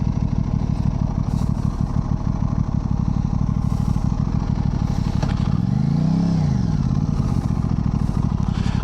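A 2025 Aprilia RS660 Factory sport motorcycle engine runs steadily while riding, with a throaty, pulsing drone, briefly swelling as it revs higher and then settling back, no talking.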